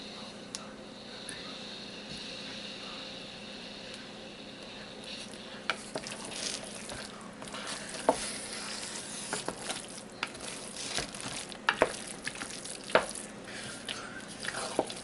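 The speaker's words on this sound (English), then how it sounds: "As the cheese melts, it gets harder to stir." Thick seafood cornbread dressing with melting pepper jack cheese being stirred in a pot, soft scraping and sticky squelching under a faint sizzle, with occasional sharper spoon knocks against the pan.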